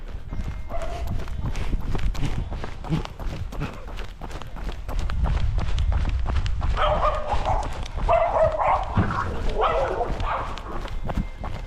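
Several dogs bark in bursts over a steady rumble of movement and running footsteps on a winter run, the barking growing louder and more frantic toward the end.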